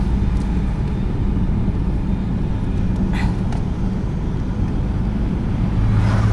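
A car driving along a road, its engine and tire rumble forming a steady low drone from inside the vehicle, with a few faint clicks and rattles over the top and no talking.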